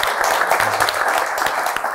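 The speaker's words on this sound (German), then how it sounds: "bitte für die erste mutige Person einen Applaus" An audience at a panel discussion on utopia and religion applauds a participant, a steady patter of many hands clapping at a fairly loud level throughout the short stretch.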